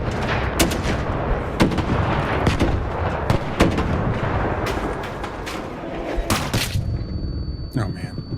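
Rocket explosions and gunfire in a retro video game, a dense run of sharp booms and bangs over a constant rumble, loud and close, with a brief high tone near the end.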